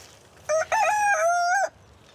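A rooster crows once, loud and close, its call rising into a long sustained note before cutting off, in a village yard surrounded by neighbouring houses.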